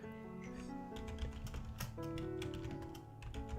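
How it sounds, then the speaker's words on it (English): Rapid clicking keystrokes on a computer keyboard tap out an irregular, close rhythm over a faint background hum, with no talking. "I'm typing it in the chat."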